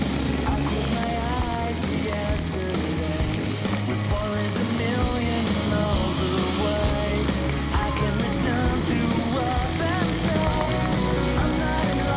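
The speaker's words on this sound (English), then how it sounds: "It's wet season in Cambodia, and that means the rain can come at any time." Steady heavy wet-season rain pouring down in Cambodia, a dense continuous wash of noise with low rumbling underneath, loud and close throughout.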